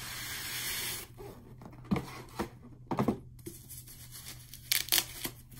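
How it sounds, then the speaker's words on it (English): Packaging around a new J.C. Newman humidor is torn and pulled open close by, with a hissy rustle at first, then scattered crinkles, rips and scraping handling sounds. "A lot of unwrapping, a lot of opening."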